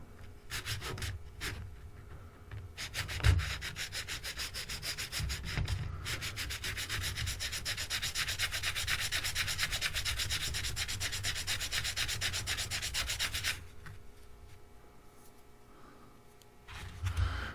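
Sandpaper is rubbed by hand over the body of a Glarry Telecaster guitar, making a close, steady, raspy scrubbing with quick back-and-forth strokes that runs for several seconds before easing off.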